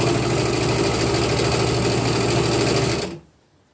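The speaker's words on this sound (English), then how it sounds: "and then sew this piece down" Sewing machine running fast to stitch down a patchwork fabric piece for a finished edge, a loud, even mechanical whir that stops abruptly after about three seconds into quiet.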